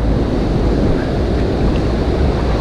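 Sea waves and strong wind buffet a fishing beach at Mar de Ajó, Buenos Aires, giving a loud continuous roar and rumble with no voices.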